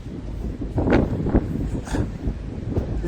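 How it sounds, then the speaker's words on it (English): Strong gusts buffet the microphone in heavy, rumbling bursts at an outdoor funfair in the evening at Kirkcaldy Links Market, rising and falling irregularly throughout. "It's so windy."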